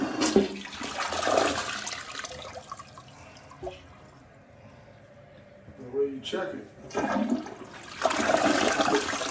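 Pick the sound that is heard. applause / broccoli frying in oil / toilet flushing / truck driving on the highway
toilet flushing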